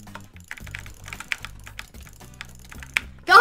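Rapid jitter clicking on a computer mouse and keyboard during a Minecraft Skywars match, with dense, fast irregular clicks running throughout, close and fairly loud, ending in a brief louder burst.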